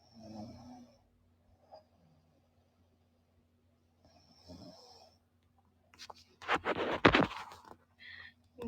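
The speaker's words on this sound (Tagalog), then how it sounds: "Humihilik. Pakinggan mo." A person asleep snores in slow breaths, two soft rasping snores several seconds apart, close and faint, followed by louder rustling and scraping noises near the end.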